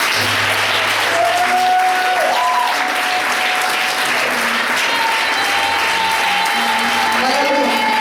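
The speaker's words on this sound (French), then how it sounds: "Acclame très fort." A church congregation applauds loudly and steadily throughout, a dense wash of clapping with some voices and cheering mixed in.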